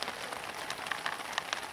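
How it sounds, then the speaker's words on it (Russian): Light rain begins pattering in a taiga forest at dusk, a soft, dense hiss of small drops with a few sharper taps on nearby surfaces, faint and steady with no talk. "О, дождик накрапывает."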